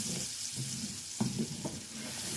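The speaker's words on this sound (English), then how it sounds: "Now you don't want the garlic to burn. So we're gonna cook it through a little here." Garlic cooking in a pan gives a soft, steady sizzle with a few brief scrapes or stirs, quiet and close, with no talking.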